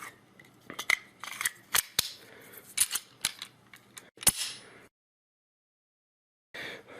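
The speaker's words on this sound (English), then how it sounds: "let me demonstrate the trigger pull on this thing" Sharp, dry clicks from the trigger of a Kel-Tec PF9 pistol being pulled, about a dozen irregular close snaps over several seconds, then silence and a brief rustle.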